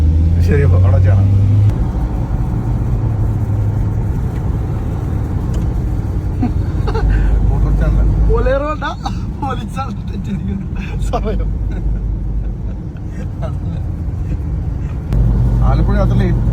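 A Maruti Gypsy jeep drives along, its engine giving a constant low rumble throughout, while people talk over it for most of the stretch.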